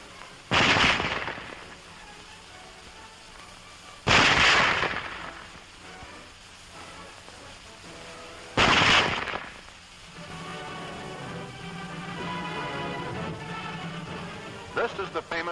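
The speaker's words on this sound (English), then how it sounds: "Loading and firing the Model 98K is the same as our own Springfield" Three loud, sharp rifle shots from a WW2 German Model 98K bolt-action rifle, spaced about four seconds apart, each with a short ringing decay, with background noise and a faint voice or soundtrack underneath toward the end.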